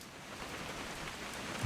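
Steady rainfall in the game What Remains of Edith Finch, an even hiss of drops on surfaces, moderately loud and continuous with nobody talking.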